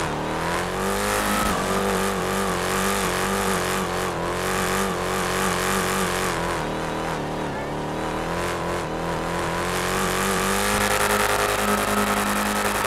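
A car revving hard in a drag race in the video game GTA 5: a loud, continuous engine roar with rising and falling pitch that fills the whole stretch.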